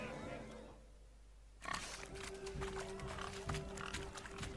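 Pigs squealing in The Witcher 3 during a pig-chasing race, shrill overlapping squeals and grunts that burst in suddenly after a quiet start, with voices talking among them.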